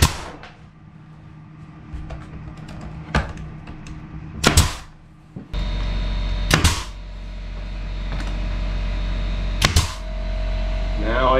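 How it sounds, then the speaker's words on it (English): A finish nail gun firing into a window trim piece during interior casing work, several sharp loud shots spaced apart over a steady background hum, close by. "I can nail it in with the finish gun."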